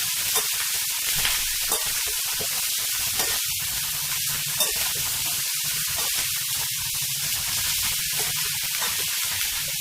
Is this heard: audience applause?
no